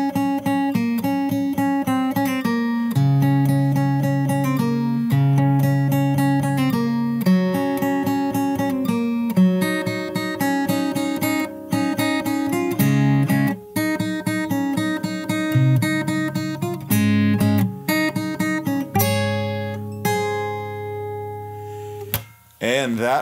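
Fingerstyle acoustic guitar plays the full second verse of a song, a steady stream of plucked melody notes over bass, close and loud throughout with no voice.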